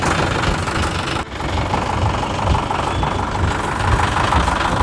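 A motorbike engine runs steadily close by, a continuous loud rumbling drone with a brief dip near the start and no voices.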